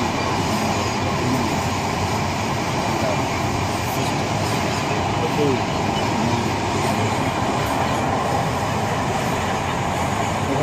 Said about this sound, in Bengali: পদ্মা সেতু আমরা ট্রেনে করে পার করলাম।